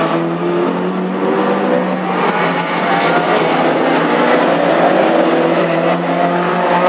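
Classic hot rod race cars roar around an oval track at Birmingham, engines droning loud and continuous as the pack passes, with layered revving tones and no audible commentary.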